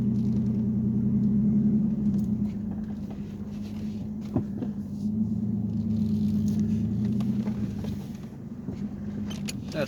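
A pickup truck idles and drives slowly as it is turned, a steady low engine rumble close by, loud throughout and without talk.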